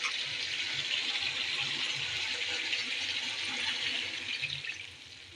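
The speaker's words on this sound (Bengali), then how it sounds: "আমি এখন ঝোলটা দিয়ে দেবো।" Broth poured into a pot of spiced meat being cooked down, a steady rushing liquid pour that runs for several seconds before tapering off near the end.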